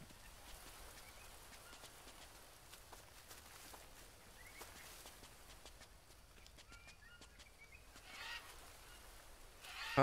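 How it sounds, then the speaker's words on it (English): Faint, scattered bird calls in the Green Hell jungle, short chirps and a honk-like cry over quiet ambience, with some footstep-like clops and a louder burst at the very end. "Hi, bird."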